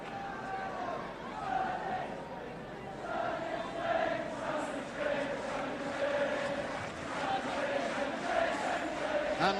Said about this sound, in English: the Welsh crowd can start to chant sunny Spain, sunny Spain